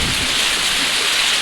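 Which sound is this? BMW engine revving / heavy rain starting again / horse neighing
heavy rain starting again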